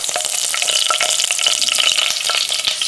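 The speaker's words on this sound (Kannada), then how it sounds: "ಇವೆಲ್ಲ ಹಾಕ್ಬಿಟ್ಟು ಸ್ವಲ್ಪ ಕೆಂಪಗಾಗೋವರೆಗೂ ಹುರ್ಕೋಬೇಕು" Spices and slit green chilies sizzle steadily in hot oil while being stirred for amla rice, a dense continuous crackle with small scraping stir sounds close by and no talk.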